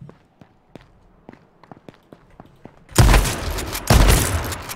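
Quiet footsteps tap for a few seconds in H1Z1: King of the Kill, then two heavy, booming shotgun blasts erupt close by, the second following about a second after the first.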